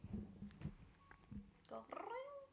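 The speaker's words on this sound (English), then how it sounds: "Can you give us a meow?" A pet cat named Jesse gives a couple of short meows near the close, after a stretch of people talking and laughing in a room.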